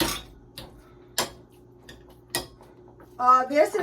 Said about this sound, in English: So I just want to mash this with a potato masher.